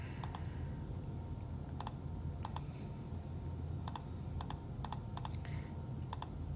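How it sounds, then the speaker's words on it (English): Buttons pressed on a calculator while working a geometry problem, crisp paired clicks spaced irregularly, close and clear over a steady low background hum. "Let me type this into the calculator."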